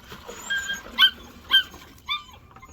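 Puppies whine behind a fence in short, high-pitched bursts, a few separate cries spaced about half a second apart, fairly close and with no talking.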